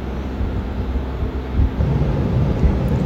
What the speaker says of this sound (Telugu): సో ఫ్లైట్ అయితే గాల్లో ఉంది.